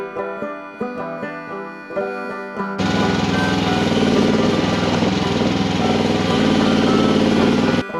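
A Rippa R319 mini excavator digs loose dirt from an embankment, its small engine running loud and steady close by, rising sharply to full load partway through with continuous mechanical roar.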